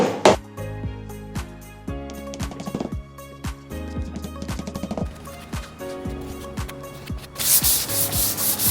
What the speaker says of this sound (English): Dad is sanding after we patched it.